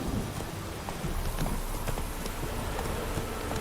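Roach, a horse in The Witcher 3, gallops with quick, rhythmic hoofbeats that are close and clear, set against steady rain and low rumbles of thunder.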